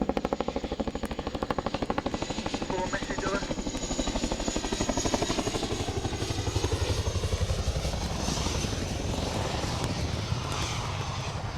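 A helicopter performs at an airshow, its rotors beating in a rapid, continuous chop that stays loud throughout as the engine pitch shifts slightly, with crowd and commentary faintly underneath.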